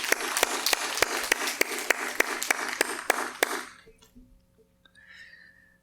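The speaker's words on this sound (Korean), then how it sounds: "격려의 박수로 함께하기 원합니다" A church congregation bursts into encouraging applause during a Sunday worship service, a dense run of claps lasting about three and a half seconds before fading into near silence.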